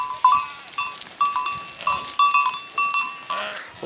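A bell tied to a billy goat clinks in quick, irregular strokes as goats and sheep move about a flock, with faint bleats mixed among the close, bright metallic rings.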